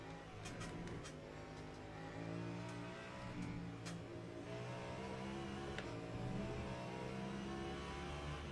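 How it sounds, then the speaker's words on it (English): A Ferrari race car in a racing game at Spa closes in, its engine a steady mid-pitched drone and whine sitting low in the mix throughout, faint and continuous without any clear pass-by. "Ferrari just bearing down on us."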